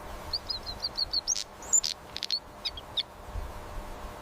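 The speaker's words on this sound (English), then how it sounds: "Sparrow." A sparrow chirps in quick, thin, high-pitched bursts, a run of short tweets followed by scattered single notes over a faint background hiss.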